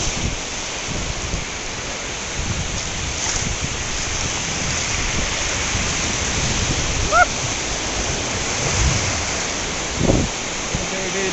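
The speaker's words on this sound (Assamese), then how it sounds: "ডাঙৰ ঢৌ।" Sea waves surge and break at Miramar beach in Goa, a continuous loud wash of surf with swells rising around seven and ten seconds, and a few faint voices in the background.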